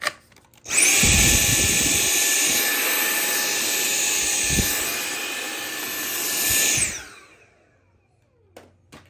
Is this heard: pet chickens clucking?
no